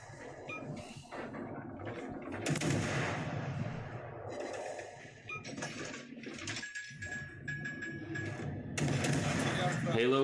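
Blind-fire gunshots in the Halo video game crackle in short bursts amid busy in-game effects, heard beneath a steady, excited voice talking throughout.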